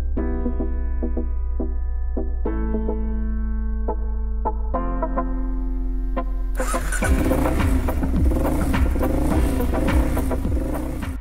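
A 2014 Suzuki DR-Z400 dirt bike engine idling with a steady low thump, then revving harder in the second half with a rougher, louder roar, heard close with no talking.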